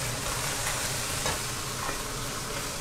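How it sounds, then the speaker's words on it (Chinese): Food pan-fries with a spoonful of oyster sauce, giving a steady sizzle with faint stirring scrapes in the pan, close and continuous without talk. "放一汤匙的蚝油 一个汤匙的蚝油来 煎一煎它就可以了"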